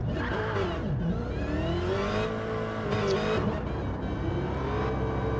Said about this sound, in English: See the first few cars making their way out on track